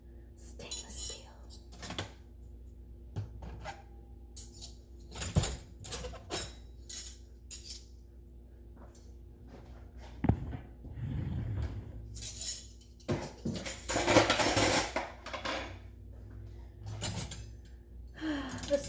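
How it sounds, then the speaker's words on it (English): New stainless steel silverware clinks and clatters in scattered bursts, with quiet breathy voices and soft whispering between the clinks. "We got new Silverware."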